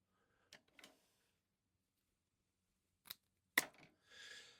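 Scissors snipping a length of Flashabou tinsel while a crappie fly is tied, heard as a few quiet, sharp clicks and snips separated by silence, followed by a brief soft rustle, all close and faint.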